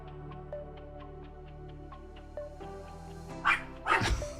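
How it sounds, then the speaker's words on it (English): A dog barks in a few short, sharp bursts toward the end, fairly close, after a stretch of quiet indoor background. "That's why she was in here, so she wouldn't bark."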